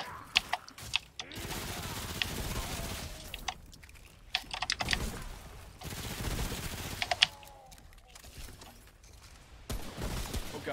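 Sharp pistol shots from the video game Remnant crack out in quick, irregular clusters, loud and close, mixed with the clatter of keyboard typing.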